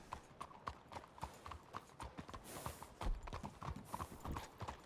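A video-game horse trots along with brisk, steady clip-clop hoofbeats at a close, even pace, with faint background noise underneath.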